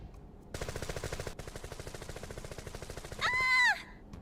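Soldiers firing guns in Final Fantasy VII, a rapid, sustained burst of automatic gunfire with a short pause, ending in a sharp high ringing screech, no talk.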